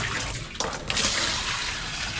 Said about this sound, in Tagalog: Isa pang banlaw.